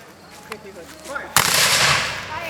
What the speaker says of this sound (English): Shooting straight into the neighborhood.